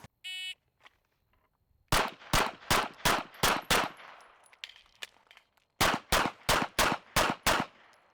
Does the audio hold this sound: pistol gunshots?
yes